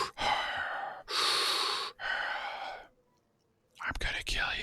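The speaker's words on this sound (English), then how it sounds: "you hear heavy breathing" Heavy breathing, close and loud, in three long breathy gusts separated by brief gaps, then a short silence before sharper, ragged gasps.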